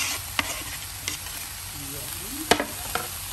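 Fried quinoa with steak, green beans, cauliflower and carrots is stirred in a pan, giving a steady soft sizzle with several sharp scrapes and knocks of the utensil spread through the clip.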